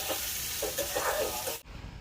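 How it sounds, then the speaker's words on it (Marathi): Chopped onion sautéing in hot oil in a pan, a steady close sizzle with stirring scrapes, ending abruptly. "आणि छान प्रकारे हा कांदा आहे तो तेलावरती परतून घेणार आहोत।"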